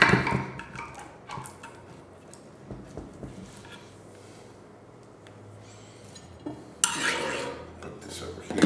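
Utensils clink and scrape against a baking dish as a slice of rested au gratin potatoes is lifted out and served, giving a few soft taps and then a brighter clatter near the end; quiet, with no talk.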